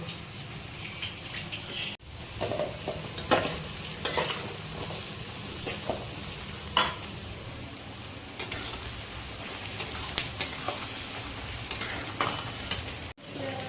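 Ghee and a little oil sizzle steadily in a pan for fried rice, with frequent stirring scrapes and clinks breaking through a continuous close hiss.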